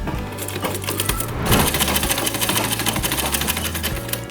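A sewing machine runs steadily while stitching the corners of a kapok mattress cover, producing a close, loud, rapid mechanical clatter with a rhythmic motor hum throughout, and no voices.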